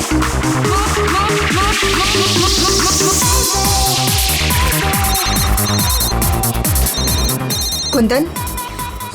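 An electronic telephone ringtone trills loudly and continuously in a Hindi crime drama, its repeating warbling notes mixed with dramatic background music, with a voice briefly heard over it.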